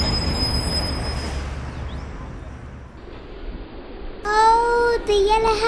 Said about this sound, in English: The train doesn't stop at the pool station.